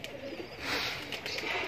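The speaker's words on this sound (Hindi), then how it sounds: "कबूतर वगैरह माशाल्लाह जी देखें सारे घूम रहे हैं" Pigeons cooing among a roost of domestic pigeons kept for flying, outdoors on a clear day. The soft coos sit under a fairly noisy, airy background.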